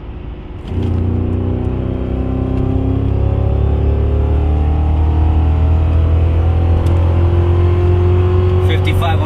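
A car accelerates hard in third gear from a rolling start, its engine snapping into a loud, close, rising drone that climbs steadily in pitch for several seconds without letting off.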